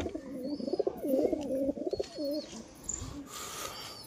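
Domestic pigeons kept at a house softly coo in low, rolling phrases, close by, with a few faint higher chirps from other birds and light rustling around them; no one speaks.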